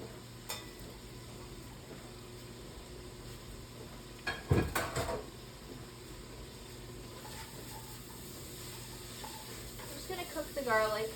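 Garlic dropped into a pan of sausage and onion sizzles with a steady low fry, with a brief louder burst of clatter and stirring near the middle and some scraping toward the end.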